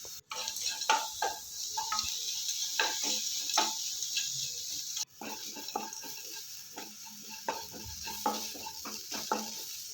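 Spices sizzle in hot oil while being tempered for chitranna, the lemon rice, with continuous frying hiss and scattered clinks and stirring taps from a ladle against the pan.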